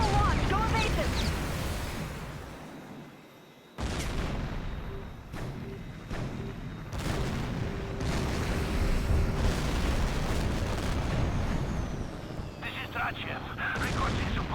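Missile launches and heavy explosions in the combat flight video game Tom Clancy's H.A.W.X 2, a dense, loud barrage of booms and blasts over a sustained roar, with a brief lull before the firing resumes and radio voices speaking.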